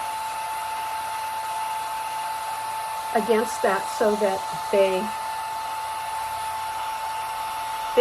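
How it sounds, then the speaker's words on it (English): A hair dryer blows with a steady high-pitched whine throughout while a person speaks briefly over it midway. "go ahead and run my hair dryer"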